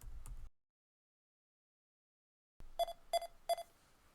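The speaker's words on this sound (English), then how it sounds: "you're going to hear the audible beep" Three short electronic error beeps from scoring software sound in quick succession after a brief silence, clear and close.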